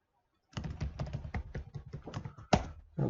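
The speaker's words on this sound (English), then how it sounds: "So just type my user ID here and the credentials." Rapid, close typing on a computer keyboard as a user ID and credentials are entered, a steady run of crisp key taps ending in one louder keystroke, after a short silence.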